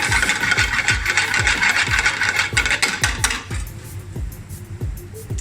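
Spoon scraping and clanking rhythmically in a pan as Balti paste is mixed into a lamb Balti, restaurant style, regular metallic taps close by with a sizzling hiss that fades halfway through.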